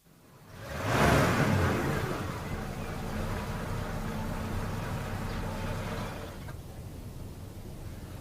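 A car engine starts with a swelling roar, then settles into a steady running rumble for several seconds, close and fairly loud with no talking.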